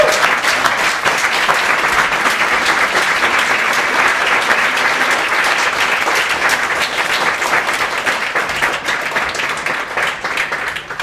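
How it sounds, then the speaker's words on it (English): An audience at a speaker showcase event gives steady, dense applause. Many hands clap continuously throughout, loud and close, with no talking over it. "Let's keep the round of applause going."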